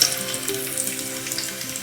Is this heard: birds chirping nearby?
no